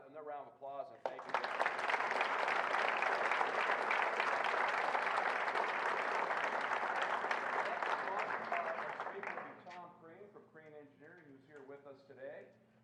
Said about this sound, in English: how about another round of applause and thank you